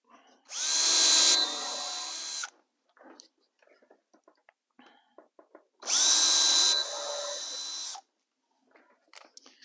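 Power drill driving 1 1/4 inch drywall screws into wood, two loud whirring bursts of about two seconds each, close by, with quiet handling clicks and rustles in between.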